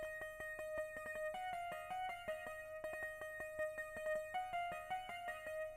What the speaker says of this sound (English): Then, guys, we have this very, very repetitive pluck sound that's going to sound like this.